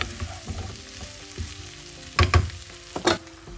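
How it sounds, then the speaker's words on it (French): Autumn salad ingredients are stirred in a pan, with sizzling frying underneath and a few sharp scrapes and knocks of the utensil near the end. "Je mélange. Je vais laisser le tout se mélanger 2 minutes."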